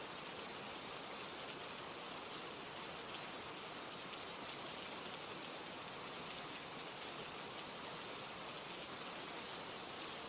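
Steady rain falls with a dense, even hiss and patter, constant and moderately close throughout, with no voices.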